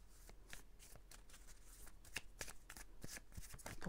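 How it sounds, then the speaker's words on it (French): Tarot cards are shuffled and drawn by hand, giving a quiet, close run of quick riffling and flicking bursts with no talking. "je vais juste tirer 2 cartes"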